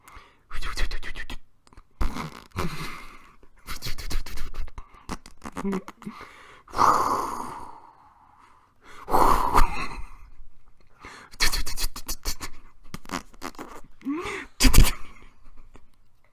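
A voice imitates a softly flowing sewer with breathy hisses, gurgles and mouth noises in irregular bursts separated by pauses, fairly quiet and close.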